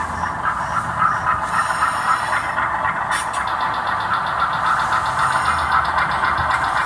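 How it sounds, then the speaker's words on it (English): A locomotive rumbles steadily nearby with a continuous engine drone and faint high squeals, moving slowly as it shunts a train into a siding. "Now the locomotive has successfully shunted into the siding"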